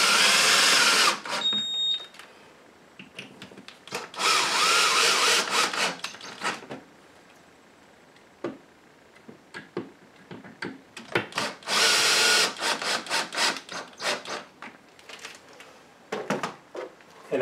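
A power drill drives coat rack screws into wall mollies, with several bursts of whirring and grinding separated by short pauses and small handling clicks.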